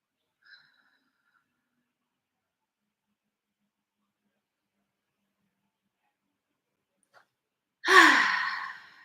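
One deep, audible exhale near the end during a somatic exercise session, following long near-silence with only a faint earlier breath.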